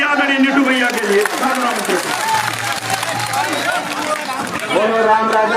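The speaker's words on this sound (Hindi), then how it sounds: "जोरदार तालियां बजाइए आदरणीय नीटू भैया के लिए" Crowd at an outdoor Congress election rally in Mohangarh clapping and murmuring, a loud burst of applause that dips midway and swells again, with a steady hum and chatter underneath.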